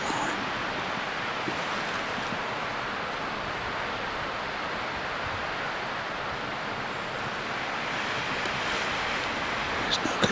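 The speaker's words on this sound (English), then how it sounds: "And the wind is blowing." Strong wind roars steadily across a hilltop at a turkey hunting camp, a dense, unbroken rushing that buffets the microphone for the whole stretch with no pauses.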